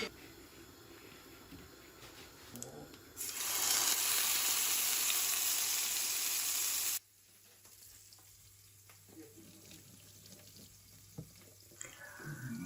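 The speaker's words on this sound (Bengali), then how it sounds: "এক সাইড দিয়ে আমি এক পিস কাতলা মাছ ভাজি করে নিচ্ছি" A loud burst of hissing, sputtering as a piece of katla fish fries in a kadai lasts a few seconds, then cuts to quieter kitchen clatter and a low hum.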